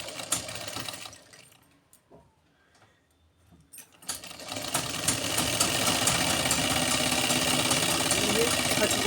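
A sewing machine stitches salwar panels together. After a quiet stretch it starts up and runs close and continuously at a steady, rapid rhythm to the end.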